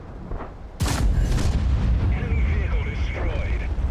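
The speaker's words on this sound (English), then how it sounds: "Big guns go boom indeed." A tank cannon fires in World of Tanks: one close, heavy blast that cracks out suddenly and rolls into a long, rumbling decay over low battle ambience.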